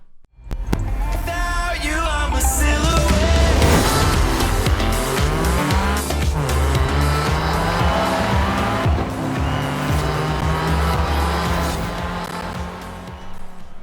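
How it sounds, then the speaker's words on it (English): Race cars roaring in the Forza Horizon 4 video game, with sustained engine drone, shifting revs and repeated tire squeal and skidding through a race, loud and continuous throughout. "skip forward to when I was in a race and then stop cutting the video so much and just let the race play out"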